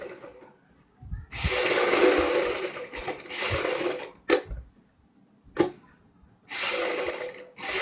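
A sewing machine stitching a kurti neck design runs in several close, whirring bursts of a second or two each, separated by pauses and sharp mechanical clacks, with no voice over it.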